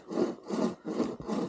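Rhythmic back-and-forth sawing through a tree with a Backcountry pocket chainsaw, four steady rasping strokes close up, with no voices.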